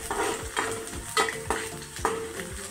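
Onions frying in a pan for a chicken liver masala, with a steady close sizzle under rhythmic scraping stirs of a spoon roughly every half second, loud and without any talking.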